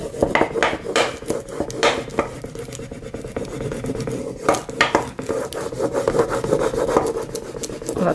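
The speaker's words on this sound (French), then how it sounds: "Et maintenant on va gratter notre motif." Scraping a decorative transfer motif onto a recycled box, a steady dry rubbing and rasping sound in repeated strokes, close and fairly loud, with occasional light clinks, no voices.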